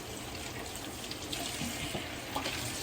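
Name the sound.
rinsing a meat platter under a running tap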